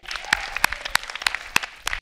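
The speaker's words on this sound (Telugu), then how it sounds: "హ్యూజ్ రౌండ్ ఆఫ్ అప్లాస్ మా సుధీర్కి" A studio audience on a Telugu TV comedy dance show bursts into lively applause with sharp individual claps standing out, close and loud, for about two seconds.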